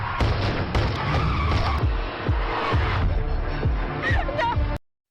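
Car tires skid and squeal during a film car chase with gunfire, loud and continuous with sharp impacts and engine roar, then cut off abruptly.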